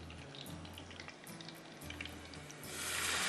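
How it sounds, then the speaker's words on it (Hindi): Onions with salt and ground spices frying in a pan for sabz pulao sizzle steadily, then a splash of water hits the hot oil and the hiss swells louder near the end, close and with no talk. "थोड़ा सा पानी डाल रही हूँ कि प्याज एकदम से और ना जल जाए"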